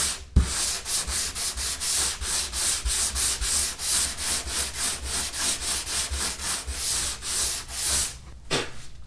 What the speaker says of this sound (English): Just gonna sand it down with some 180.